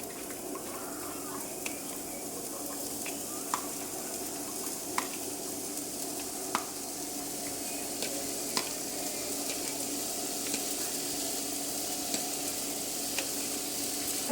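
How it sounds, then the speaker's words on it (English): Egg white muffin mixture sautés in a saute pan with a faint steady sizzle, punctuated by regular light taps and scrapes of a utensil, while a voice speaks over it. "I'm going to throw it into a saute pan, and I'm going to saute it and cook it until it is done"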